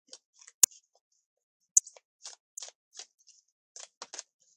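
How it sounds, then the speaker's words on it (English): A tarot card deck being shuffled by hand, heard as scattered soft card riffles and clicks in short bursts with two sharp snaps, close and fairly quiet, with no talking. "so let's shuffle the deck and see what card"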